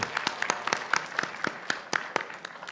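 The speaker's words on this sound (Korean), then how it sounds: "박수" Sparse, distinct hand claps from an audience at a book concert talk, a dozen or so sharp claps in an uneven rhythm, fairly close, with no talking over them.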